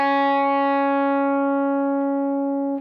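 A single sustained electric guitar note with a clean, bright tone and rich harmonics, ringing steadily and decaying slightly, with no effects.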